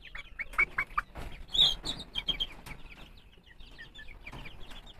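Silver Sebright cross chickens in a backyard cage cluck and chirp in quick, close bursts, some notes high and sharp, with no talking.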